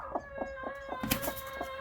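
Hens cluck in a steady rhythmic series inside crowded nesting boxes while new birds are introduced to the flock, close and fairly loud, one sharper squawk near the middle, no voices.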